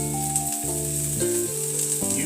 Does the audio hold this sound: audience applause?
no